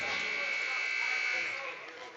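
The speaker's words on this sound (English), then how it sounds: "buzzer to end the second period" A loud, steady electric buzzer sounds at the end of the second period of a hockey game, holding a sustained harsh tone before tapering off, with crowd noise and commentary underneath.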